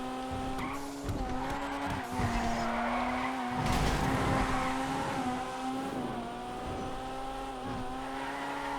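A drift car in GTA FiveM skids through a long slide, its tires squealing in a sustained, wavering whine over the engine's rev and rumble, loud and close throughout.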